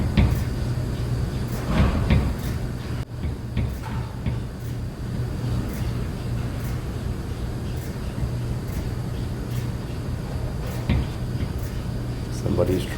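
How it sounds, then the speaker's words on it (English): A door rattles in a maintenance vent room at Binion's Hotel & Casino in Las Vegas, giving repeated scattered knocks and clatters over a steady ventilation hum, with some voices underneath. "Somebody's trying to get out from this door."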